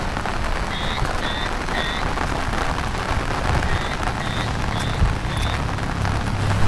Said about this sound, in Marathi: हिरवागार कोकणाचा तुफानी पाऊस